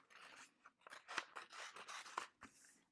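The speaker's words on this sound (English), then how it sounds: "And now we can cut these words" Scissors cutting out words from a census packet, a close, quiet series of snipping strokes with a couple of crisp closing clicks, no voices.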